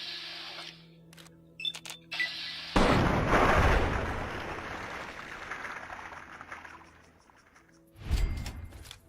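A grenade explosion in Fallout 3 lands as a loud, close, broadband blast that rumbles and decays slowly over several seconds, with a second thump following, after some small clicks and game tones.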